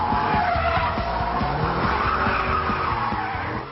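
A Vauxhall VXR8 roars with a loud, throbbing V8 engine while its tires skid and squeal continuously, a close, sustained burst with no voices.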